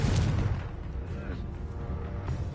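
Fiery Confringo spell blasts from the Hogwarts Legacy video game, a loud booming burst up front that fades into crackling rumble before another surge near the end.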